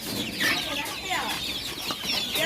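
Native (desi) hens and chicks cluck and peep continuously nearby, a busy chorus of overlapping calls.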